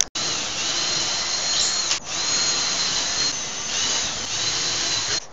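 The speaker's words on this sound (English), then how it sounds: "We just got to drill like 4 holes in there so we can mount those to it from the back." A power drill bores holes into a wooden headboard, a continuous loud whir lasting several seconds with a couple of short dips in speed along the way.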